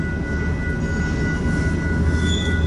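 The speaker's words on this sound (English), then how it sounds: "So I'm assuming that this train has mostly loaded trailers." A freight train with loaded trailers rolls past close by in strong wind, a continuous heavy rumble and clatter of wagons with a thin metallic wheel squeal riding on top.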